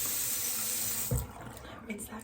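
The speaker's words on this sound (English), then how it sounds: "Rinse that grossness down the drain." A bathroom sink tap runs steadily during a morning skincare routine, rinsing down the drain, with a brief knock and the hiss dropping away partway through.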